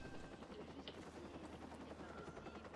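Helicopter in the video game Watch Dogs, its steady rotor drone running throughout under light background game sounds.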